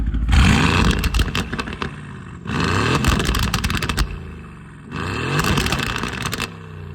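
A 2019 Aston Martin Vantage fitted with downpipes revs in three loud, separate bursts, each climbing sharply and then cutting off, with brief quieter gaps between them.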